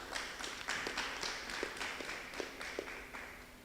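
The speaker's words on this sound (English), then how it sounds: "let's give him a round of applause" At a Rastafari conference, an audience gives a round of applause for Ras Caleb Apia. The claps are light and evenly paced, scattered rather than thunderous, and heard from some distance with no one speaking.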